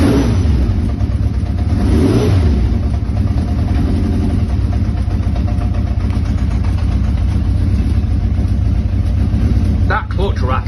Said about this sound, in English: That clutch rattle seems to be incurable. Let it out, you get the sound.